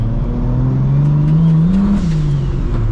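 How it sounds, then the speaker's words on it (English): A 750HP MKIV Supra accelerates on cold tires that spin, its engine loud and close with a rising, wavering drone under a brief climb in pitch, and no talking. "I don't know if you guys noticed that the tires just spun"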